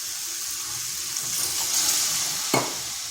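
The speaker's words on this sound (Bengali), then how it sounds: "এরপর সামান্য একটু জল দেব।" A little water poured into a sizzling cabbage and potato curry, a continuous hissing splash over frying sounds, with one sharp clink near the end.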